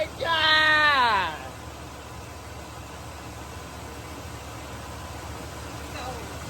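A 1975 Chevrolet Caprice engine idling smoothly after a carburetor cleaning, a low steady hum throughout, with a brief loud tonal sound at the start.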